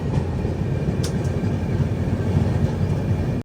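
A Humsafar Express train runs along the line in the countryside near Davangere, a steady loud rumble with constant low-frequency roar and faint rail clatter throughout, no voices.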